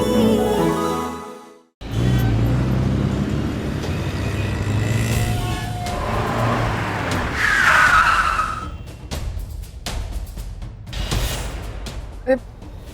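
A car drives and brakes to a stop, with tyre skidding and engine noise rising and then cutting away, mixed with dramatic music and other effects.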